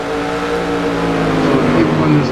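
Several race cars in a racing video game roll down the pit lane of the Bahrain circuit, a steady, sustained engine drone with harmonic hum, held at even volume under a commentator's voice.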